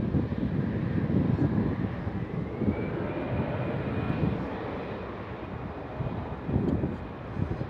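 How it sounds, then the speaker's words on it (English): A Finnair airliner rolls down the runway at Amsterdam Schiphol, its jet engines giving a steady, broad roar that holds for several seconds, mixed with wind buffeting the microphone and swelling slightly near the end. "The Finnair is rolling down the runway."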